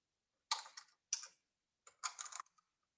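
Quiet, close bursts of rapid key clicks as terminal commands are typed on a computer keyboard, in three short clusters separated by brief pauses.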